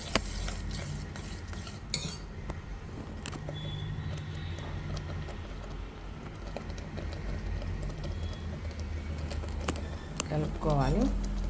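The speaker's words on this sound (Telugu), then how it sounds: "బాగా కలుపుకోవాలి" Jaggery payasam being stirred in a pot after crushed cardamom goes in, giving soft scraping and clinking of a spoon against the vessel, fairly quiet and steady under background noise.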